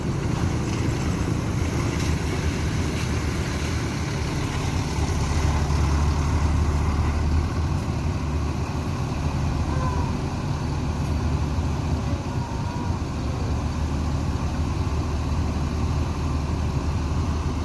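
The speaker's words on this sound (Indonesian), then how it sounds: "Dan berikutnya bus NPM masuk terminal Baris Solo." NPM intercity bus pulling into the Solo bus terminal, a loud steady diesel engine drone with a deep low rumble that swells briefly midway, continuous and close.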